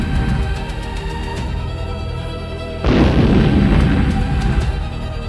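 Gunfire and blasts in a Poppy Playtime Season 2 horror game story, with loud booming bursts and a sudden heavy explosion midway over a dense, sustained rumble and no talking.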